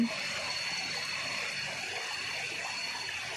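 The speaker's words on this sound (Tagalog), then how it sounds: "Mini falls." A small waterfall pours steadily outdoors, a continuous close rushing splash of water with no pauses, heard alone.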